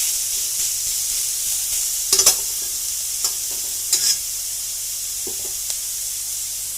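Potatoes frying with beetroot and carrots in a pan make a continuous soft sizzle, broken by a few brief stirring clatters near the middle. No one speaks.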